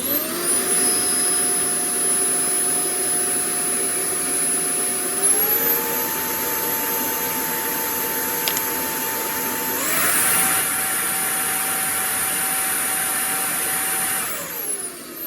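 A Jimmy H8 Pro cordless vacuum cleaner whines steadily, stepping up in pitch and loudness twice as it switches power modes, then winding down at the end; close and alone.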